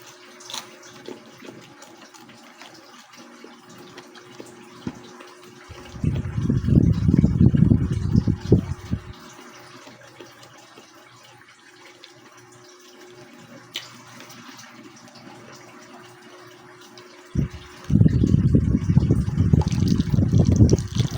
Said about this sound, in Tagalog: yung pinagbabaran ko na ng tubig na mainit, salin ko dito, pwede pa rin inumin.